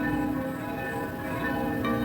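Church bells ring continuously at steady volume, their sustained tones and overtones blending into a dense wash without pause, with no voices present.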